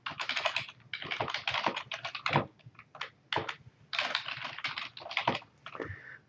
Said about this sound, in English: So I'm just typing in these things.